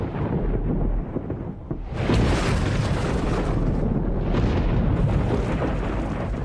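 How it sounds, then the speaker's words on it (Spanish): A deep, rumbling boom like thunder igniting an explosive mix of air in an ancient tropical forest, a low roar that swells abruptly and then sustains loudly, with no speech. "Bastaba un trueno para que la explosiva mezcla de aire entrara en combustión."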